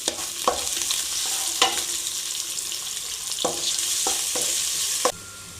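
Cinnamon, cloves and other whole spices sizzle in hot oil for a spiced chickpea curry, with a steady frying hiss and several sharp scraping stirs of a spoon against the pan.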